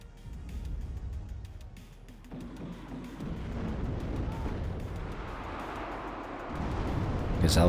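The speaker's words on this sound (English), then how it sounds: "Gazelle cannons dishing out the damage." Cannon fire from a Gazelle helicopter in the video game WARNO, booming low bursts and rumbling impacts over a continuous roar, building louder toward the end amid battle noise.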